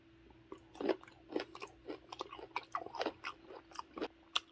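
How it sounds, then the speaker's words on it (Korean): Close, quiet chewing of paprika topped with onion and gooseneck barnacle, a steady run of soft crunches and wet bites with no talking. "파프리카에 양파 하나 얹고 거북송까지 하나 얹어서 먹어보겠습니다"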